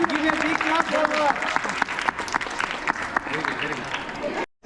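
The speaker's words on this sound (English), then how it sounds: "Give a big clap for her." A crowd at a children's school event applauds with dense, crackling clapping, voices mixed in, before the noise cuts off abruptly at the end.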